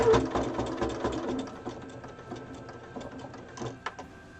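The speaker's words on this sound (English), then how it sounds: "I'm going to stop with the needle down, because then I can just lift the foot and pivot and stitch around this edge" A sewing machine stitches around the edge of a small hexagonal fabric coaster, a close, steady mechanical whirring with rhythmic needle chatter that slows and eases off toward the end, no talking.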